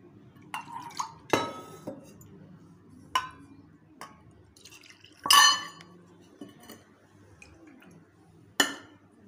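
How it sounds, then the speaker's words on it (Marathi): A bowl that held mango pulp is rinsed with water and the water poured into a pot while making mango modak: scattered glassy clinks of dishes and light splashing and dripping, with quiet gaps between the knocks. "ही वाटी आणि हे धुवून घेते,"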